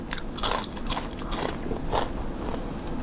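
Someone eats pickled cockles together with kaffir lime leaf, making close, repeated crunchy bites and wet chewing in a steady rhythm.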